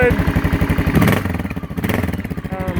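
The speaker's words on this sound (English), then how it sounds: "DG pipe sounds really nice and raspy, but it's not too loud." Honda XR650L single-cylinder engine running through a DG exhaust pipe, a close, steady raspy thumping idle with a brief rise partway through, while someone talks over it.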